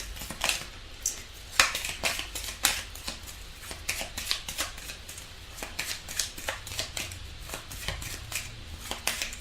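Tarot cards being shuffled by hand, a run of crisp riffling snaps and soft slaps in uneven bursts, close and fairly quiet.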